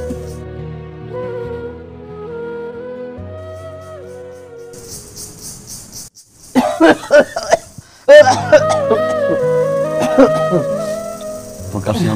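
Repeated coughing from a person in a Bengali drama scene, first under soft background music and then in a burst of short, close, harsh coughs.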